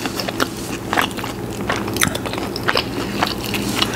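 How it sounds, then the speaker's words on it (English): Close, loud biting and chewing of mac and cheese balls dipped in marinara sauce, with repeated soft crunches and wet mouth sounds in quick succession. "let's get started with this mac and cheese balls"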